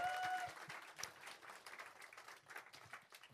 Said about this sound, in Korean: 여러분들 감사의 박수 한번 부탁드리겠습니다